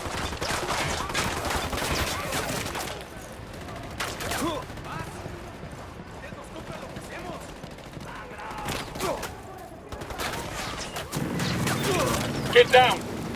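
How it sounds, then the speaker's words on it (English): Gunfire crackles in Ghost Recon Wildlands: bursts of rapid shots at irregular intervals, some close and sharp, others more distant, with quieter gaps between and occasional talk. "Opening fire."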